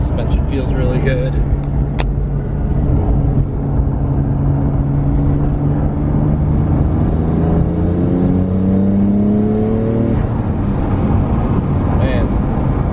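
Car engine pulling hard while driving, a loud continuous roar with rising tones that climb steadily through one long gear before easing off, close and dominant throughout.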